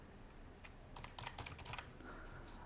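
Typing on a computer keyboard while entering settings: a quiet run of quick, irregular key clicks in scattered bursts, close and alone with no talk.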